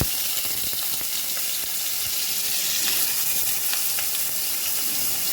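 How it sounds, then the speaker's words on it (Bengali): Potatoes fry in a hot wok (kadai) with a loud, continuous sizzle and scattered crackles and pops, heard close up with no talking. "আলুগুলো ভেজে নিই।"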